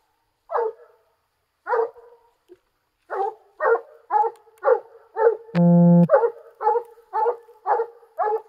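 A coon dog barks at a raccoon up a tree at night, loud separate barks in an uneven run with short pauses, one long drawn bay in the middle, no talk.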